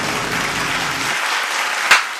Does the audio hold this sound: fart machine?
no